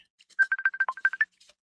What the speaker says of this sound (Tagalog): Ang ako maning classmate sa high school di ay ang nanawag ni Kunsing Gonzales